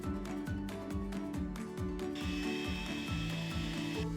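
A power drill with a 6.5mm bit and then a chisel bit cutting a round hole into a wall, giving rapid repeated rhythmic grinding bursts, moderately close and steady, with a higher whine joining partway through.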